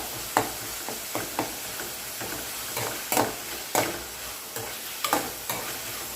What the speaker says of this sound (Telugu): ఇప్పుడు అల్లం వెల్లుల్లి పేస్ట్ వేసుకొని కలుపుకోవాలి